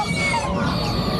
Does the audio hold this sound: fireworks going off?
no